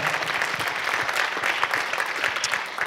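An audience at a sports inclusion award ceremony claps steadily, a dense, even round of applause filling the hall without a break.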